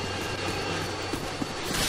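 A Harrier jet in Call of Duty Modern Warfare 2, a continuous roaring jet-engine drone that fills the brief moment, loud and near, with small bumps of gunfire-like noise.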